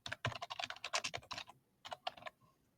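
Rapid keystrokes on a computer keyboard, a dense burst of clicky taps for about a second and a half, then a short pause and a few final keys, close and fairly quiet.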